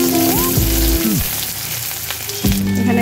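Onion and kalonji seeds sizzle loudly in hot oil in a kadai, a dense steady frying hiss with a few tonal clatters and stirring bumps, no voices.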